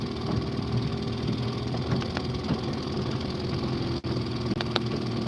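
A small engine idles steadily and loudly up close, with a faint rough knock and a few brief blips as the throttle is touched.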